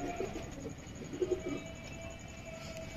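Pigeons cooing in a loft of Bicho sleti kamanger and Sialkoti wehshi breeds, a few soft low coos rising briefly over a steady background hum, with no talk.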